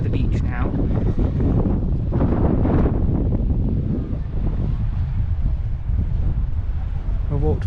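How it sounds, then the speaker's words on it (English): Strong wind buffeting the microphone on Balos Beach in Crete, loud continuous gusty roaring with faint surf beneath and people talking through it. "It's quite windy. Might not be able to hear us"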